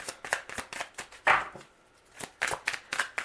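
Tarot cards are shuffled by hand in quick riffling bursts, close and crisp, with a brief pause in the middle before the shuffling resumes.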